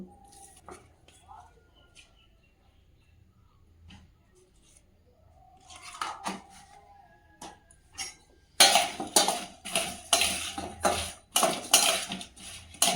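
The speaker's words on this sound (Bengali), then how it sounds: "বেগুনে নুন আর হলুদটা মিশিয়ে নেব" Salt and turmeric being mixed into sliced eggplant in a bowl, quiet at first, then a run of rhythmic clinks and scrapes of a utensil against the bowl in the second half.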